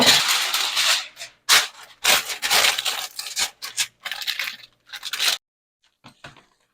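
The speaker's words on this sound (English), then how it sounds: "I'm going to get some aluminum foil over our cookie sheet" Aluminum foil being torn from a roll and pressed over a cookie sheet in a home kitchen, with loud crinkling and ripping bursts in an irregular rhythm, close up, before falling nearly silent.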